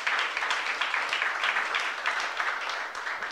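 A church congregation applauding together, a steady dense wash of clapping that holds at an even level throughout with no voices standing out.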